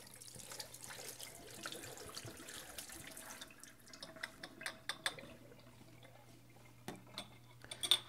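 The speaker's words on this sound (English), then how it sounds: "And then I'll wait until the water's running hot." Hot tap water runs steadily into a kitchen sink while wine bottles are rinsed out, a soft continuous flow with scattered drips, splashes and light clinks toward the end, no talking.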